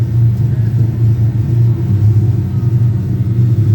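Bone stock race cars lined up at a racetrack before their feature race make a loud, continuous low engine rumble that holds steady throughout.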